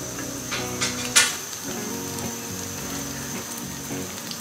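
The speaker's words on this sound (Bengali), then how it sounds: "ব্রাউন কালার হওয়া পর্যন্ত আমি এই পেঁয়াজগুলো ভাজতে থাকব" Sliced onions frying in a pan until browned, a steady soft sizzle and crackle with a few sharper clinks of stirring near the start, recorded up close.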